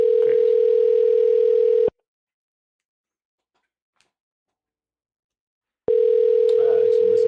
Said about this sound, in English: Roy, if I get another cold call on the phone, do you mind if I unmute so you can hear